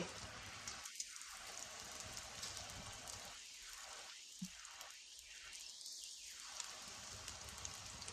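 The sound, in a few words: Nutella wraps frying in oil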